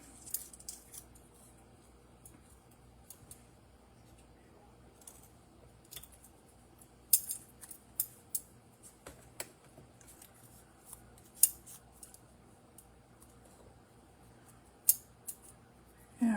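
Scissors make small, faint snipping and clicking sounds at irregular intervals while quilt design cards are cut, heard close up in a quiet room over a low steady hum.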